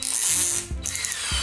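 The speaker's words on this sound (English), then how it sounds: "just get your Phillips attachment," A Phillips bit being fitted into a cordless drill chuck, producing short ratcheting clicks and a couple of mechanical clunks, close and fairly loud.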